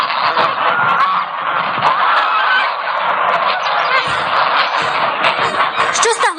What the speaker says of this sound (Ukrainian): Дикі гуси наших сполохали.